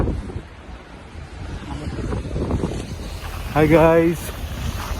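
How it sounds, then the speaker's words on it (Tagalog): Strong wind from a winter snowstorm in Canada roars and buffets the microphone in a steady rush, with a person briefly calling out a greeting partway through. "Lakas po ng hangin."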